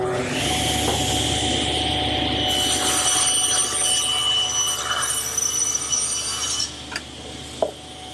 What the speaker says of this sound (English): I've set up the saw 3/4 of an inch away from the fence and about 1/4 of an inch deep.